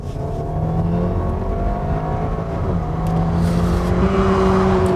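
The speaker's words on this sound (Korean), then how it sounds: "들려오는 엔진 사운드 역시 그 아우디 2리터 터보 엔진 특유의 털털거리는 그런 소리가 들리는데요" An Audi A4 45 TFSI quattro with a 2-litre turbo engine accelerates, its engine a steady, fairly loud drone rising in pitch as it pulls, heard from inside the car without talk.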